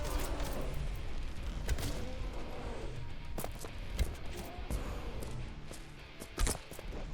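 Gunfire in the horror exploration game The Axis Unseen, with sharp shots scattered irregularly over a steady rumbling game backdrop, a few louder reports near the end.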